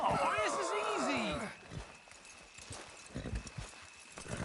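Horses' hooves clip-clop in the Red Dead Redemption video game, a brisk rhythmic trot under a loud voice for the first second and a half, then continuing as softer steady hoof beats alone.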